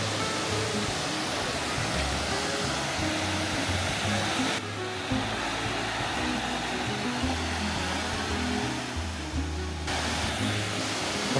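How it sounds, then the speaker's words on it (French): Broad steady roar of a waterfall pouring over rocks, seen at a scenic viewpoint in Taiwan, constant and loud throughout with a low rumble and slight shifts in intensity. "C'est juste une cascade d'eau en vrai."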